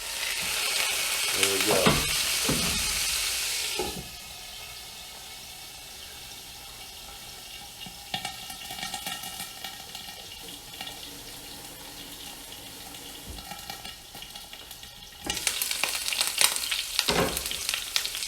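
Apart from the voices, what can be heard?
ribeye steak searing, Texas-style reverse sear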